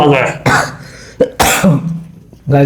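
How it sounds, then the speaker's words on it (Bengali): A person coughs a few times during a boiled-egg eating challenge, with sharp, close bursts separated by brief pauses and a little voice in between. "কাশি ওদিকে ফিরে করতে হয়"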